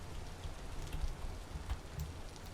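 Rain falling in the Vintage Story video game, a dense continuous patter with scattered louder drops, no talk.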